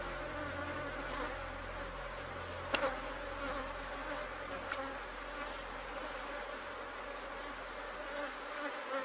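Honey bees buzzing around hives during a hive inspection, a steady droning hum of many insects nearby, with a few sharp ticks and close passes rising briefly above the swarm.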